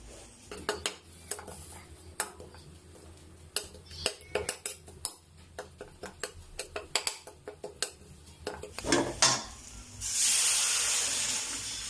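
Utensils clink and scrape against a pan in quick irregular taps, then Thai curry paste hits hot oil and a loud steady sizzle takes over near the end.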